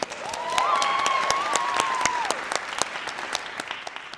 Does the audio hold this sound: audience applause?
yes